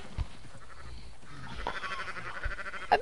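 A sheep bleats in a video game played on PS4, a few short wavering calls over low game background noise, fairly close and moderately loud.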